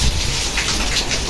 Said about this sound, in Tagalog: umuulan pa naman oh.